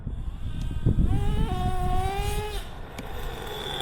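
A Traxxas T-Maxx nitro RC truck engine fitted with a JL Max 28 runs with a leaned-out low-speed needle, a buzzing high-pitched whine that climbs and steps up in pitch, then drops back, fairly close.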